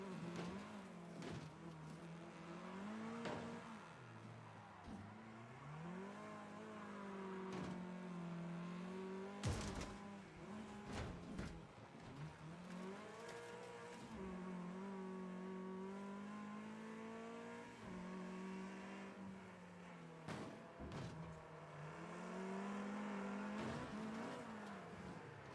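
A car engine revs repeatedly, its pitch climbing and falling through successive gears with sharp downshift blips, loud and continuous for the whole stretch with no talk.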